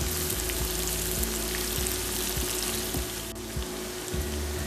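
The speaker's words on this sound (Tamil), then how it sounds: "அடுத்து 1 கப்பு துருவிய வெங்காயத்தை சேர்த்துக்கலாம்." A cup of grated onion frying in hot oil for king fish curry hisses in a dense, continuous sizzle with a faint steady hum and soft rhythmic low thumps underneath.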